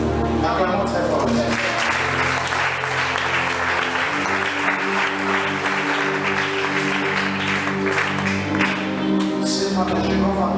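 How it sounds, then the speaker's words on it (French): A church congregation at an anniversary worship service breaks into sustained applause that lasts the whole stretch, mixed with steady music and voices. "Acclamons très fort"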